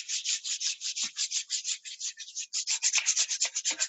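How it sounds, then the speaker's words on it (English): Hands rubbing together during a spring solstice ceremony: a fast, steady run of close, dry swishing strokes, soft and rhythmic, with no voices over it. "when you're ready, you can rub your hands together"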